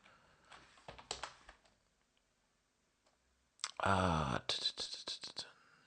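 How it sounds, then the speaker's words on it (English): A command is typed on a computer keyboard in soft, close bursts of key clicks, broken by a short pause and a brief voiced sound partway through. "Let me just go ahead and type in apt-get auto remove."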